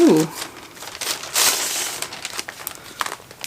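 Close-up crinkling of white paper being unwrapped, with a sharp burst of rustling partway through followed by softer crackles and handling noises.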